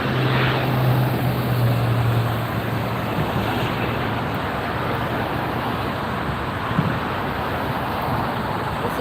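A WestJet jet airliner taxis at LAX airport, heard as a steady broad roar of engine and wind noise with a low hum near the start, continuous and fairly loud throughout with no talking.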